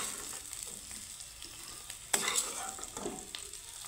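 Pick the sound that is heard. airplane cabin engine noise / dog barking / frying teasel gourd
frying teasel gourd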